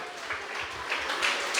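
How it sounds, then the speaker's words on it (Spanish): A Christ church congregation gives loud applause, a brief burst of steady, dense clapping that swells slightly toward the end. "Fuerte aplausos Iglesia de Cristo."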